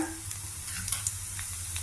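Brief hot-oil sizzle as tempering spices, urad dal and cumin seeds fry, with light crackles and a faint stirring scrape, heard close and without talk.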